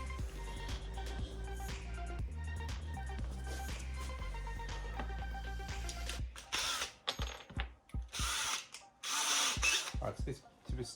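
Power drill pre-drilling and driving screws into wood while building a table saw bench, with sustained motor whirring and ratcheting, then bursts of short clicks and gritty bites as screws seat.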